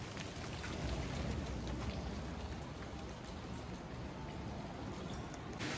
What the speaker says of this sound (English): rain, rain, go away, come again another day